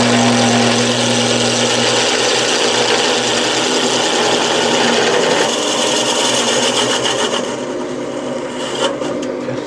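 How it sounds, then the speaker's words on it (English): A chisel cutting a wooden bowl on a lathe: a loud, close, rough scraping rasp over a steady motor hum, continuous for the whole stretch and thinning slightly toward the end. "I find it hard to stop the chisel from bouncing about a bit now."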